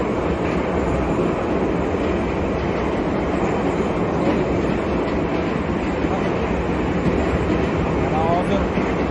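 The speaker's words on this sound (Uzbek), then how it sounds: "Metro keldi. Metroga chiqyapmiz." A metro train pulls into a station on an underground line, a loud steady rumble of wheels and carriage noise that fills the whole stretch, with faint station ambience and a brief squeal near the end.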